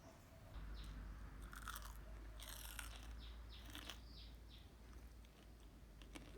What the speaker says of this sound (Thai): เสียงคุณแม่กินจิกกุ่งทอดนะครับเสียงกรอบมากๆเลย